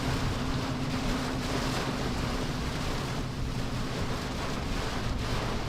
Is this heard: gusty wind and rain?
yes